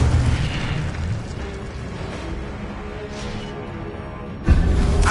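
Incendio fire spell cast in the video game Hogwarts Legacy, a loud rushing, roaring burst of flame that fades into a rumbling decay before a sharp new thump near the end.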